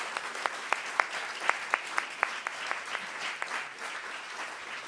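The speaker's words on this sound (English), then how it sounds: "I think we should give her another round of applause." Audience applause for a performer in new music, folk, jazz and improvisation, at an awards ceremony: a sparse, moderately faint patter of claps with a few sharper distinct hand claps standing out, no voices.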